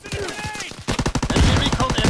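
Close-range shotgun blasts and other gunfire in the Call of Duty WWII shooter, a quick series of sharp, loud shots that thicken into dense rapid firing over the last second.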